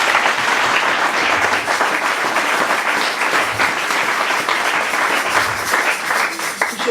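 A church congregation applauds during a sermon, sustained loud clapping from many people filling the room, with faint cheers rising under it.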